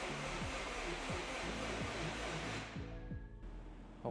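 A rebuilt car engine, its fuel pump fuse pulled, cranks over for the first time with a steady, rhythmic whirring churn up close, then the cranking stops and changes after a few seconds.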